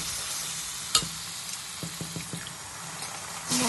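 Ground turmeric, cumin, coriander and chilli powder being stirred and fried in oil for mutton kosa, a soft continuous sizzle broken by a sharp clack and a few quick scraping strokes of a spoon, with no voices.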